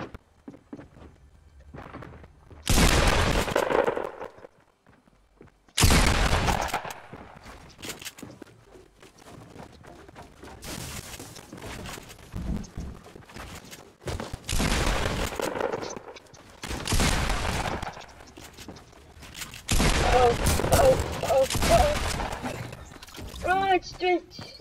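Gunfire in Fortnite comes in loud bursts separated by quieter stretches, with scattered impacts and movement noise between volleys, and a player talks through much of it.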